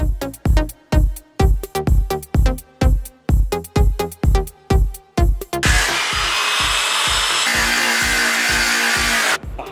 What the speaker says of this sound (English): Cut them off with dikes, and then you grind it off. Grind the pins off.